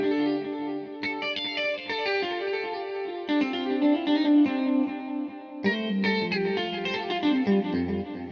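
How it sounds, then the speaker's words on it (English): An electric guitar plays a melodic phrase of chords and single notes with chorus and light distortion, clear and unaccompanied, pausing briefly midway. "So the first sound I'll be using is definitely a guitar sound"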